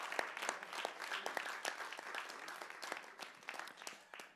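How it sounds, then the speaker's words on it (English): Round of applause from an audience at an annual meeting, many hands clapping in dense, steady bursts at moderate distance, fairly quiet throughout with no talking. "ask for a round of applause for Scott, for Judd, for Swan"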